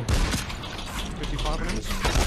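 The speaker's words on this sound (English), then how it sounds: "I think we're getting shot on the island." Distant gunfire in the video game ARC, a dense continuous crackle of shots heard far off beneath game noise and players talking.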